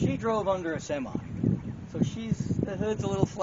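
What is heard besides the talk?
No distinct noise like a dog, phone or traffic.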